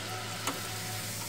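A metal rose cookie mold heats in hot oil with a soft, steady sizzle and one brief crackle midway, faint and close with no talking.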